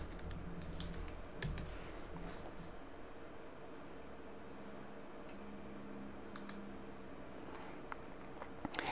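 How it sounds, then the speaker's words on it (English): Keys clatter quietly on a computer keyboard as an IP address is entered, a few short bursts of light taps spread over a steady background hiss, close but faint. "So go ahead and type that IP address into your URL."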